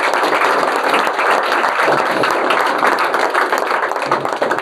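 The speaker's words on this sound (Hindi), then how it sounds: "जोरदार तालियां बजती है।" Dense, steady applause from an audience at a coaching institute's JEE Advanced results celebration, many hands clapping loudly and continuously throughout with no break.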